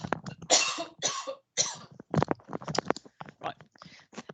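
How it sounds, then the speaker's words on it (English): A person coughs several times in quick, harsh bursts near the start, close and fairly loud, followed by a few throat-clearing sounds and quiet mouth noises. "I'm going to cough, so just one sec."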